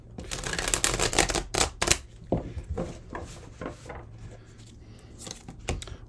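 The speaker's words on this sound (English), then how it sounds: "Let's get one more shuffle." Rapid papery riffling and flicking of tarot cards in several quick bursts, close up, with softer handling noises in between.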